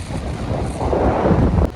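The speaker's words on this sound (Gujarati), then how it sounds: "પવન જોરદાર ઠંડો આવે, મજા જ આવે." Strong gusty wind at a beach in Dwarka buffets the microphone with a deep, rumbling roar that swells louder partway through, with no voices.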